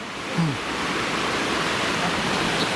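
Clear river water rushing past near the town of Watchet, a steady broadband roar of flow, loud and continuous with no voices over it.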